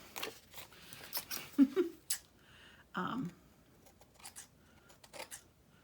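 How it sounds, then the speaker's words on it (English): Scissors snip a piece of paper off a handmade journal card, giving a few quiet, close cuts and light paper rustles amid soft handling noise. "that piece I have to cut off there"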